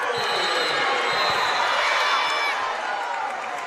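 A loud crowd in a New York City college gym cheers and roars steadily during a women's basketball game between Fordham and St. Bonaventure, a dense continuous wall of noise that eases slightly at the end.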